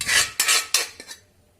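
A spoon scrapes around inside a metal pot of fenugreek leaf curry in three quick strokes and a lighter fourth, a close rasping stir with no voices.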